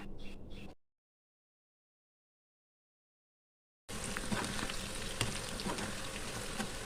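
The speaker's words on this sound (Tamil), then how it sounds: "கடாயில் எண்ணெய் ஊற்றி வச்சுருக்கேங்க. இப்போ நம்ம பொரிச்சு எடுத்துக்கலாம்." Raw banana slices deep frying in hot oil in a kadai, a steady dense sizzle close by, heard briefly at the start, then a silent gap, then returning loud and continuous.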